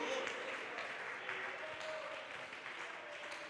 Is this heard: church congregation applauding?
yes